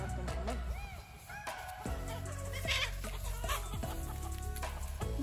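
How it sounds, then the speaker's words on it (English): Several chickens and a rooster squabble nearby, giving busy, overlapping clucks and squawks with flurries of agitated calls that run almost continuously for a few seconds. "The chickens are having fights over there."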